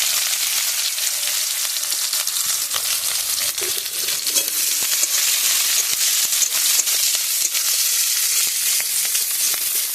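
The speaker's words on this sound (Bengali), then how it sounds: "তেল গরমের মধ্যে বেশ কিছুটা রসুন সাথে করে দিয়ে দিলাম, আর বেশ কিছুটা পেঁয়াজ দিয়েছি" Garlic and onion frying in hot oil while cooking outdoors, a dense, constant crackling sizzle with scattered pops and a few stirring scrapes, close and steady throughout.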